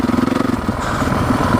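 A Honda CRF 450 dirt bike engine pulses in quick, loud firing beats, then smooths into a steadier drone, heard close up on a ride.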